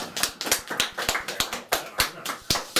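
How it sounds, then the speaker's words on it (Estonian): Sparse, uneven clapping from a small audience at a library reading, individual claps distinct and close, not merging into a full roar. "Aplaus!"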